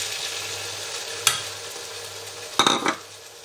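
Tomatoes fry with chicken and okra in a pan, a soft steady hiss broken by a single clack and then a brief burst of stirring and scraping near the end, up close and silent of speech.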